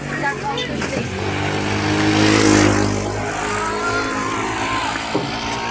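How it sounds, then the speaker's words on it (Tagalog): A motorcycle passes along a rain-soaked road on Tagas boulevard at night, its engine swelling closer to a peak midway and then fading, while voices carry on nearby. "Gilid ka mo, may motor."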